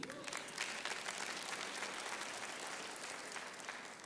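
Applause from a church congregation during a sermon, a continuous rain of many hands heard at a fairly low level, steady from start to finish.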